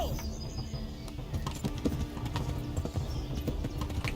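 Horse hooves clatter in a fast, steady galloping rhythm during a race in the medieval game Kingdom Come: Deliverance, close and continuous, with a few faint bird chirps in the background.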